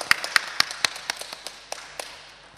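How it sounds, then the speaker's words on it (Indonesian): Church congregation at an anniversary thanksgiving service giving a round of applause, heard as a thin run of about a dozen crisp, fairly regular claps that fade toward the end over a soft background. "Kita beri tepuk tangan sekali lagi."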